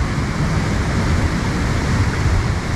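Floodwater rushing through a Tibetan colony in Kullu, Himachal Pradesh, a dense, continuous roar of churning water heard up close and loud, with no talk over it.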